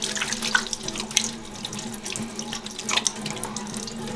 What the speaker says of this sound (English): What I do is, first thing, I'll wash my hand, sanitize my hand.